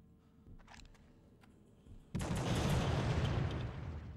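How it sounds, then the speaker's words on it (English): Tommy gun fire in the PS2 horror game The Suffering erupts midway as a loud, sustained automatic burst after a quieter stretch of game ambience. "that's a lot of Tommy gun"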